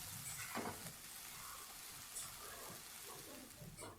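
Spices such as cinnamon and cardamom, with chopped onion and bay leaf, sizzle faintly in oil in a kadai while a spatula stirs them, giving a steady, quiet crackling hiss with a few brief scrapes.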